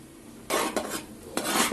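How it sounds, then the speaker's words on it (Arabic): A utensil scrapes and stirs caramel pudding ingredients with vanilla in a pot, with a few brisk close strokes over a quiet background. "هحط حبة فانيليا ونخلط المكونات مع بعض، نقلب المكونات مع بعض"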